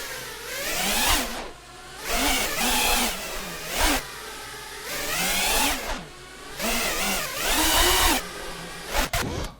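FPV racing drone flying acro in the FPV Freerider simulator game: a buzzing, whining motor tone that repeatedly rises and falls in pitch as the throttle changes, continuous and fairly loud with no talking.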